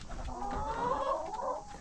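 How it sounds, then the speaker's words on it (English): Chickens clucking softly and murmuring together in a ranch coop, a faint close-by chorus of hens with no talking. "there's a lot of chickens in here"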